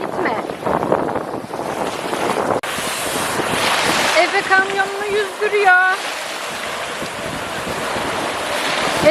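Sea waves wash and rumble with gusty wind across the microphone, loud and continuous, while people talk and a voice comes and goes over the surf.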